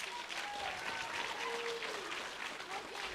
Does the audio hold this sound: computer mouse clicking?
no